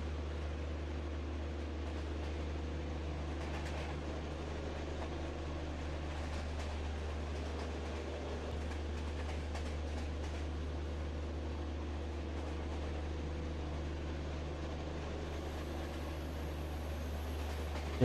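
Steady low rumble and hum of a train running in Microsoft Train Simulator, an express from New Jalpaiguri to Chennai Central, continuous and even throughout, with broadband rolling noise and no talk.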